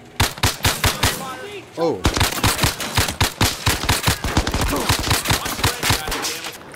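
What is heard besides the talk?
gunfire in VR video game Zero Caliber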